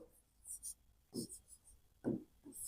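Pen or chalk writing during a Class VII ratio math lesson, a few soft scratchy strokes close by, heard in short bursts between pauses.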